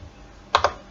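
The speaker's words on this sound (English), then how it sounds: "let's just quickly type that" Two quick, crisp keystrokes on a computer keyboard, close and clear over a low, quiet background hum.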